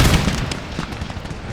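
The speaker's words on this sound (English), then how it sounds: "Oh, artillery madness!" Artillery fire in an Empire Total War battle rumbles as a dense, loud wash of overlapping booms and cannon blasts, with no voices over it.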